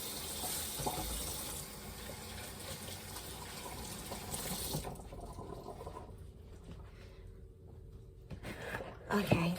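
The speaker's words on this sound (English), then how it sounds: "I'm going to wash my hands quick." Hands wash under a running kitchen tap, a steady gush of water that cuts off partway, leaving faint handling and dripping sounds with a few quiet clatters.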